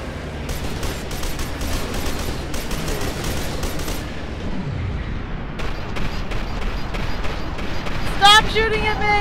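Enemy gunfire in the shooter game F.E.A.R. 2: Project Origin, sustained bursts of shots over a dense, noisy battle bed, with brief louder volleys and a voice shouting near the end.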